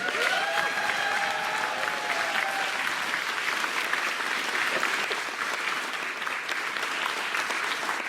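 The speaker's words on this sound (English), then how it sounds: "They should come out so we can give them a quick round of applause." Conference audience at a plenary session in Hilo giving a sustained round of applause for the staff crew, steady many-handed clapping filling the room, moderately distant, with a brief voice early on.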